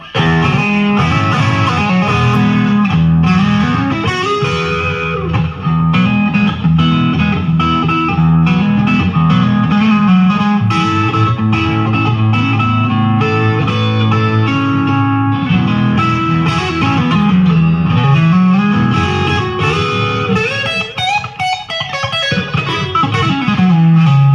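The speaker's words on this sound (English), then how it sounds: "There's a reverb switch right there." Cutlass electric guitar played through an amp with the reverb switched on, a washy reverb tail, sustained chords and notes ringing and blending continuously, loud and close.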